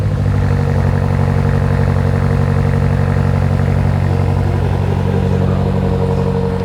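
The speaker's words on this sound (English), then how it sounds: "it has the OPF exhaust, which I was anticipating being quieter than the US cars, and it actually seems like it's a little bit louder" A BMW G99 M5 Touring with its OPF-equipped exhaust, heard on the move as a loud, steady engine drone with a deep rumbling exhaust note that holds constant throughout.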